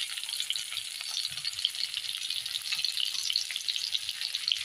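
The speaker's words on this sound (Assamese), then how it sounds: "তেল দিয়াৰ পিছত পিঁয়াজ দিলোঁ" Onions frying in oil in a wok give a steady, moderately quiet sizzle with light crackles and soft stirring scrapes, and no voices.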